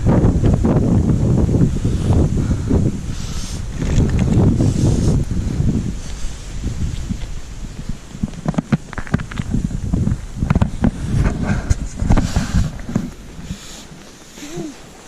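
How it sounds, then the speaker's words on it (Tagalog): Strong gusts on a snowy mountain road buffet the microphone in heavy, rumbling bursts that ease and return, loud at first and then more intermittent. "Lakas pa ng hangin."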